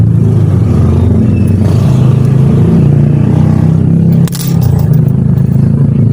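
A car passes on the road nearby, a loud continuous low engine and tire rumble that stays steady throughout, with a brief dip and clatter near the end.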